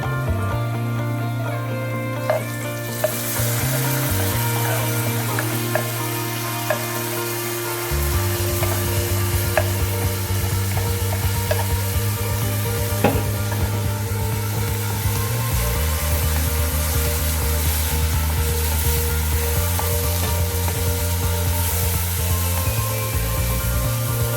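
Prawns sizzle steadily while frying in a pan with onion, ginger and green chilli for a Kerala-style dried prawn roast, a loud continuous crackle with occasional stirring scrapes, no talking.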